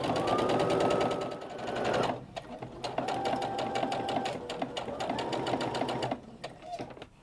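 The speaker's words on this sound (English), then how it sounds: "I have my sewing machine set to sew a 1/4 inch stitch" A sewing machine runs a quarter-inch seam through fabric for a fat-quarter skirt, in close, rapid whirring bursts with brief pauses, while a person talks over it.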